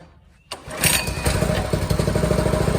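Predator 224 engine on a Coleman BT200X minibike, pull-started at dusk: a quiet pause, a rope-pull rasp, then the engine catches and settles into a loud, close, steady, chugging idle.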